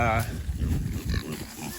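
Pigs clearing a thorny patch of land grunt and snort close by, low and rough in a few short bursts. Someone talks over them the whole time.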